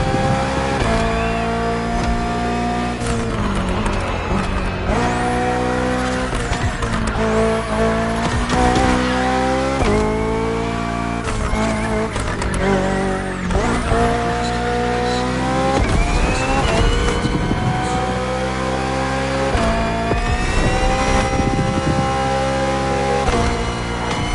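A BMW hybrid V8 race car engine in the video game The Crew Motorfest, loud and sustained with repeated revving climbs through gear changes and intermittent tire squeal over nearly half a minute.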